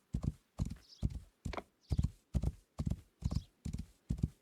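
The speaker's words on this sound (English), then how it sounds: "pressing shift gets the horse to gallop" Horse galloping in Rising World, a steady run of heavy hoofbeat clusters, about nine strides in quick regular rhythm, close and loud with no talking.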